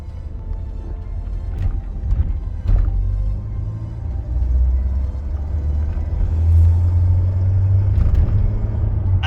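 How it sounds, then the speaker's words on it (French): A Citroën BX GTI is on the move, its engine giving a steady low rumble from inside the cabin with road noise, occasional swells as it pulls harder, and a few faint knocks. "Et là, je conduis la BX GTI."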